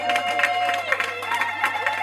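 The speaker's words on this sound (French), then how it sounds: "Est-ce qu'on peut l'applaudir très très fort?" An audience at a birthday celebration applauds steadily for a couple of seconds, a dense wash of clapping mixed with crowd noise and a sustained musical tone underneath.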